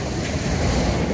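Sea waves wash steadily onto a warm beach, a continuous broadband roar of surf and rushing water with wind noise, close and fairly loud, no voices.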